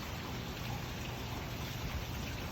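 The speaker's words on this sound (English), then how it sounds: "The rain doesn't seem like it's coming in as far to hit these yet" Steady rain falling outdoors, an even hiss of drops pattering on surfaces at moderate volume with no pauses.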